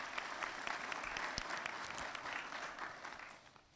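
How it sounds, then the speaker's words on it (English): Applause from the audience at a 2024 school-district retirement reception: a few seconds of steady clapping from a mid-sized crowd in a hall, fairly distant and soft, tapering off at the end. "let's give him a round of applause in his absence."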